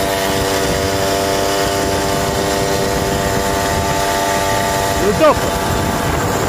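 A Motobécane moped engine holds a steady, buzzing drone at three-quarter throttle, loud and close, while a voice speaks briefly over it.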